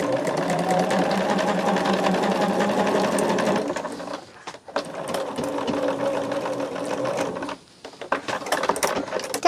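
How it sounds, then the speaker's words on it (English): A sewing machine stitches a quilt block for an Ohio Star basket sampler, running in steady rapid bursts with brief pauses between seams, close and clear with no talking. "sew it back in where it needs to be sewn back in"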